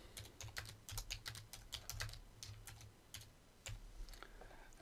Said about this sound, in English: I'll just type something like fun in the sun